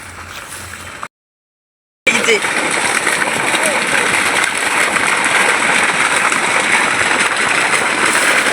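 Water splashed onto a hot cooking stone over an outdoor fire sizzles into a loud, continuous hiss after a brief moment of silence, with a voice speaking over it.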